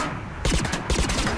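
Gunfire in Mass Effect 3, shots aimed at a proximity mine: a quiet lead-in, then loud, rapid bursts of close shots in quick succession.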